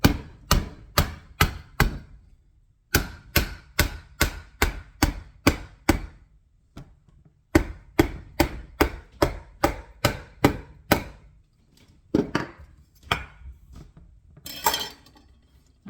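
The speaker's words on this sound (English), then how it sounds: "Now I know I can't cut this, so I got my mallet." Repeated mallet blows crack open a whole pumpkin for homemade puree, sharp hard thuds landing in fast rhythmic bursts with short pauses between rounds, close and loud, ending with a few scattered knocks and scraping.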